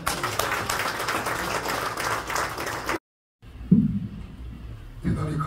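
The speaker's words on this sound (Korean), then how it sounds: "다시 한번 뜨거운 박수 보내주시면 감사합니다." Applause breaks out from a crowd at a church prayer rally, loud and continuous for about three seconds, then cuts to near silence before brief claps and murmurs return.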